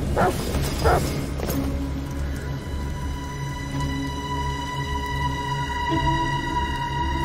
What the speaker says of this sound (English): What the fuck are they barking at?